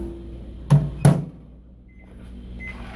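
An old Montgomery Ward microwave oven running with a low steady hum, two sharp thunks of the door or handling early on, close and fairly quiet, with no talk.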